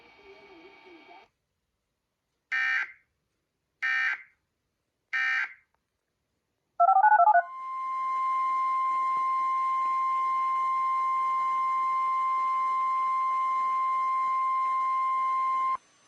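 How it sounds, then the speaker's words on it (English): NOAA Weather Radio broadcast of the National Weather Service warning alarm tone test: three short loud data bursts, a brief crackle, then a long steady piercing tone held about eight seconds before cutting off. "The preceding was a test of the National Weather Service warning alarm tone."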